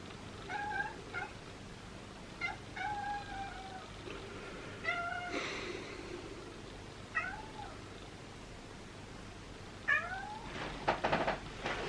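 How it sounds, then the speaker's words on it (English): A house cat meows several times indoors, short rising-and-falling calls spaced a few seconds apart at close range, fairly quiet, with a brief rustle between them and no talk. "My cat just came in and started meowing at me."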